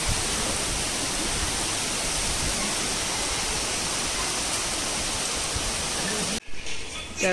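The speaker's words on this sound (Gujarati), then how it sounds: "જો સવારમાં વરસાદની એન્ટ્રી થઈ ગઈ છે જોરદાર." Heavy, steady rain roars in a dense continuous wash, close and loud, breaking off abruptly near the end.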